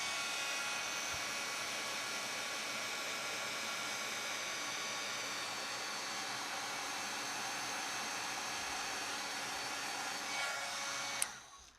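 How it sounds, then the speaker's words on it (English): A heat tool blows steadily to melt embossing powder on a stenciled rose design, giving a close, constant whooshing whir with a faint tonal whine. It runs alone without talk, then cuts off abruptly at the end. "I'm going to get my heat tool warmed up and we'll melt this powder."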